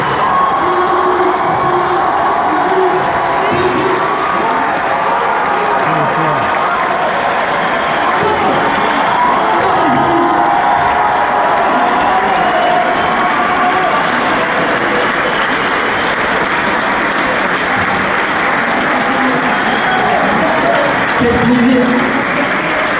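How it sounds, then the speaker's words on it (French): A packed theatre audience at the Grand Rex in Paris gives long, thunderous applause with cheering and whoops, a dense continuous roar that stays loud the whole time. "Faites un tonnerre d'applaudissements pour les Sherpas."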